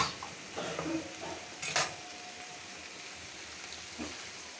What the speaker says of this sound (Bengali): মগজ ভুনা করতে সময় লাগে